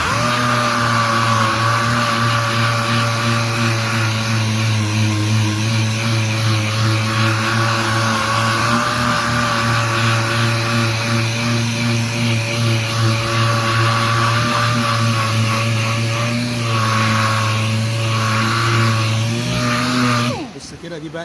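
A machine sander works putty on a car hood, giving off a loud, steady high-pitched whine that drops away at the very end, with a voice heard over it.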